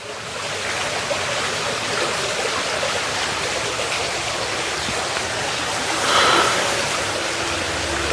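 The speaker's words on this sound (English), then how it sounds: "all I can hear is just water" Steady broadband rush of stream water flowing at an old mill at Pleasley Vale, loud and continuous throughout, with a slight swell near the end and no talk.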